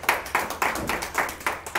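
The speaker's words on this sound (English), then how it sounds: "You can applaud for this young man." Audience hands clap for a young man at a live community talk-show taping, a sparse run of about eight distinct claps in a steady rhythm, close and moderately loud with no talking.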